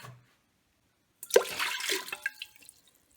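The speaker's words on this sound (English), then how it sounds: "we're gonna pour 1 cup of water into your pot, and then 1 cup of white vinegar" Water and white vinegar poured into an Instant Pot pressure cooker: a short splashing pour starting after a second of quiet, then trickling and dripping that tapers off, close and fairly soft.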